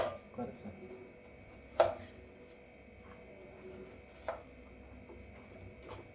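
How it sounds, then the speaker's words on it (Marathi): A knife chops food finely on a board while making chai, with a few sharp, separate knocks standing out over a quiet, slightly hissy background. "ह्या पद्धतीने बारीक करून घ्या"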